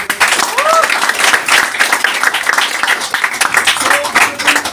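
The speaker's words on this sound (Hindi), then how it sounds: "उनके लिए जोरदार तालियां हो जाए" A crowd at a motivational seminar breaks into loud, sustained applause, dense clapping filling the space, with a few voices calling out over it.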